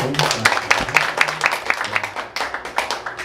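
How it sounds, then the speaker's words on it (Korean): A theater audience at a pumba comedy-and-song show applauds with dense, brisk clapping that thins toward the end, while a voice talks faintly underneath. "박수 한번 주세요."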